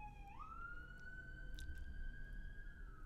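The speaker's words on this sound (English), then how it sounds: "There's an ambulance here, I'm sorry." A siren wails outside, faint and distant, holding one steady rising tone under a low background hum for a few seconds.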